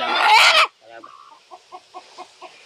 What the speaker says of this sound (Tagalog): May manok na tayo, no?